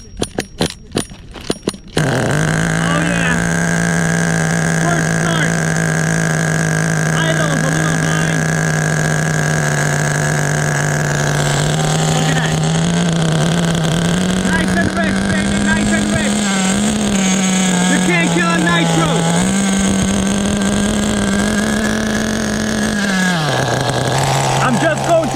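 HPI Racing Nitro Bullet RC car with a G3.0 2.2 HP nitro engine on its first start: after a few sharp cranking bursts the small engine catches and runs with a steady high buzzing whine for over twenty seconds, rising and dipping slightly, close and loud.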